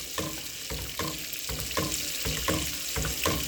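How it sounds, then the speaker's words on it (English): Cream-based pasta sauce simmers in a pan, giving a steady close sizzle and bubbling with soft regular stirring or scraping pulses throughout. "And then you just let it simmer and heat up"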